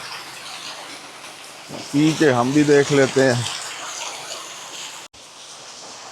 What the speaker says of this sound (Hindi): ये एक बंदा पानी भर भी रहा है।